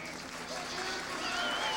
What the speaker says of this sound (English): And the fans are applauding.